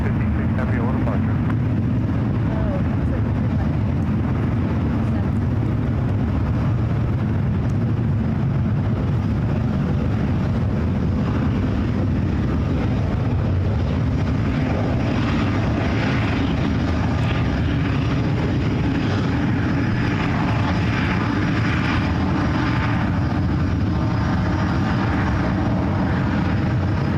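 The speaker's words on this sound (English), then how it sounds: "some Japan 777-300ER now on the taxiway Lima, heading out to the 28s" Jet engine rumble from a Boeing 777-300ER taxiing at San Francisco International Airport, heard as a continuous low roar at a distance under ongoing talk.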